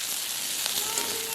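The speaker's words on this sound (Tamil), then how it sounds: "செத்தல் மிளகாய் போடுவோம். கொஞ்சம் பச்சை மிளகாய் போடுவோம். நல்லா முருகட்டும்." Dried red chillies and green chillies frying in hot oil give a steady, close sizzle with small crackles and pops, alone without talk.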